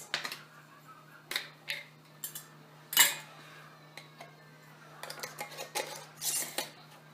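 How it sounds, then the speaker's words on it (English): Metal lids go onto half-pint wide-mouth mason jars in a series of sharp, close clinks and taps, scattered irregularly over a quiet room hum, with a busier cluster of clatter toward the end. "So the next thing it says to do is to add the lids."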